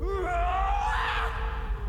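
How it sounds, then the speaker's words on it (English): A man screams in a sustained, strained yell during a stage performance with a burning devil's head backdrop, his voice rising and wavering over a steady low rumble of crowd and music. "This guy does not stop screaming."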